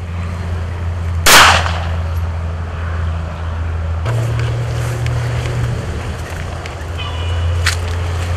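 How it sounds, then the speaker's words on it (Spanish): A single sharp gunshot fired by a security guard cracks out over a steady low engine-like rumble, followed by faint voices and background noise outdoors. "quien hizo un disparo."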